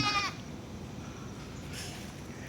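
Goats in their pen on a farm give one brief bleat at the start, followed by a steady hiss of background noise.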